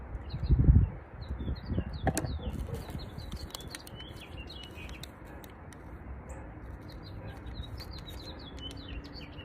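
Small bird chirps repeat faintly in the distance over outdoor ambience, with a brief rustle and thump near the start.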